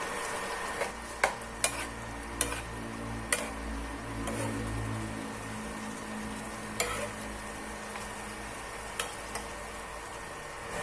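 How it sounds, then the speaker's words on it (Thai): Pork and vegetable curry being stirred in a pot, a steady low bubbling simmer with scattered light scrapes and clicks of the utensil against the pot, close and fairly quiet. "คนส่วนผสมให้เข้ากัน ใส่น้ำปลาน้ำจพิ คนส่วนผสมทุกอย่างให้เข้ากันอีกรอบนึงจ้ะพี่น้อง"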